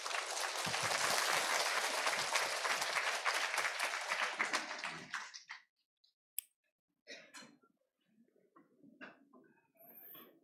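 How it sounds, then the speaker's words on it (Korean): Loud, sustained audience applause at a church Bible seminar lecture fills the first five seconds, then breaks off into scattered claps, a few hand taps and quiet room noise. "박수로 환영해 주시기 바랍니다"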